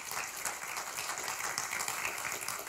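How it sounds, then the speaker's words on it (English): A church congregation claps and applauds steadily throughout, a dense, even wash of hands filling the room without pause. "And you can go ahead and clap."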